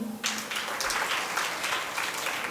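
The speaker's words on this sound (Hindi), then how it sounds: "चलो बच्चों के लिए ताली बजाओ।" A seated audience at a children's religious class session claps for the children, breaking into a dense burst of applause that holds steady and fairly loud to the end.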